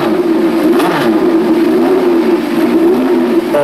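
A Formula 2 race car engine revs steadily and loudly at high rpm, a sustained buzzing drone with small rises and dips in pitch, close and continuous throughout.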